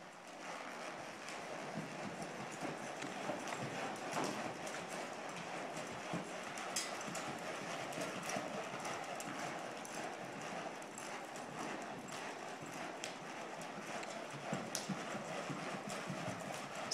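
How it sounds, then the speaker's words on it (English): A horse lopes on soft ground, its hoofbeats a faint, continuous patter of clip-clop at a distance with no voices. "Lope."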